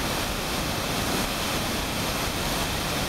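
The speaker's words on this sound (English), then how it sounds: "delivering tremendous quantities of water" Tremendous volumes of water pour out of the 14.5-foot tail race at North Hartland Dam after Tropical Storm Irene, a loud, steady, close roar of rushing water that fills the whole clip with no voices.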